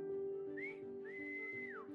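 A character's whistle as a game sound effect: two rising and falling whistled notes, clear and fairly close, over a soft steady musical drone.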